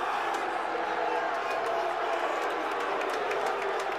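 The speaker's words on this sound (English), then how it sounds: "This crowd has gone nuts." Baseball stadium crowd at a Missouri State vs Arkansas college game roars and cheers steadily after a big hit, a dense, continuous wash of voices with no breaks.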